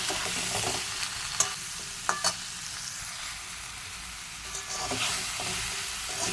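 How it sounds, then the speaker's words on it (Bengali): Salt, turmeric, cumin and chilli powder sauté in a pan for a mutton red curry, giving a steady close sizzle broken by a few sharp scrapes and clinks of stirring, with no talking. "এটাকে ভালো করে আমি কষিয়ে নেব"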